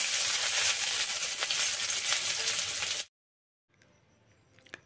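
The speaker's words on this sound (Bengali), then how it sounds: "রসুনটা একটু ভাজা ভাজা হয়ে আসলে এতে দিয়ে দেবো পেঁয়াজ কুচি" Chopped onion sizzling with garlic and whole cumin in hot oil in a wok, a steady loud hiss for about three seconds that then cuts to near silence with faint stirring clicks.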